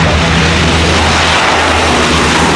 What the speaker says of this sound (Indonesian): Wow, pesawat Garuda sudah berjalan